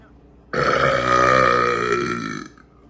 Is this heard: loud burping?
yes